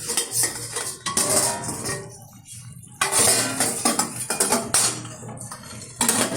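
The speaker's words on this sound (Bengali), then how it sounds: "ঢাকনাটা তুলে দিচ্ছি।" A metal lid comes off a pot of Bengali shukto cooking with chayote and papaya. Clanks and scrapes of metal cookware ring in bursts with short quiet gaps between them.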